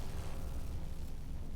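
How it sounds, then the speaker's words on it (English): Fireworks explode in the video game Stasis: Bone Totem as a dense, continuous, booming rumble of bursts with a strong low end, heard alone without talk. "Fireworks are loud and nasty."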